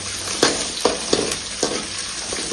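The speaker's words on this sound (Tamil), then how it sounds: "முக்கியமாக நல்லா ட்ரையாக வந்து ஃப்ரை பண்ணிக்கலாம்" Food sizzles steadily in a hot pan while a utensil stirs it, scraping against the pan about four times at a roughly even pace, close and clear.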